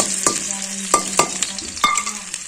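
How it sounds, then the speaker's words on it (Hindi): Red chillies and garlic dropped into hot mustard oil for a tadka, crackling and sizzling steadily up close, with several sharp spits and pops as the pieces hit the oil and are stirred. "अब पहले डालेंगे ये लाल मिर्च दो, और अब ये डालेंगे लहसुन।"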